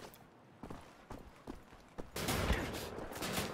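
Gunfire in the video game Wolfenstein: The Old Blood: a few sharp separate shots, then a dense, sustained burst of fire that fills the rest of the moment.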